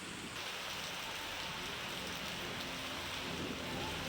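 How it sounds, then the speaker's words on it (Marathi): Steady, dense monsoon rainfall in Ratnagiri on the Konkan coast of Maharashtra, hissing evenly throughout, with no talking and no breaks. "रत्नागिरीसुद्धा आज सकाळपासून पावसानं जी हजेरी लावलेली आहे त्याची दृश्य आपण बघतो"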